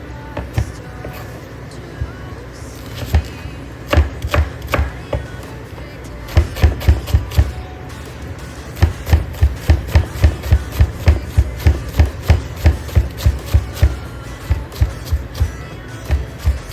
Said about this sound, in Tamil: வெங்காயத்தை சின்ன சின்னதாக வெட்டுறீங்க